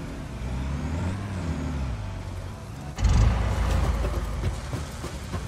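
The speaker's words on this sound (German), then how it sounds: "LKW-Fahren ist nicht immer einfach." A truck drives in the Satisfactory video game, its steady low engine rumble continuing throughout and jumping louder about halfway, with a short hissing burst like an air brake, and no talking.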